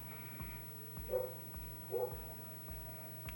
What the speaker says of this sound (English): Ooh, the dogs are at it again.